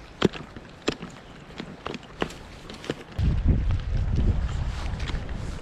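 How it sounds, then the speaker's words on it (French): Wind gusts roar across the microphone beside a trout-fishing spot, rising from light rustling and a few sharp knocks into a steady, low, buffeting rush that fills the second half. "Oh le vent."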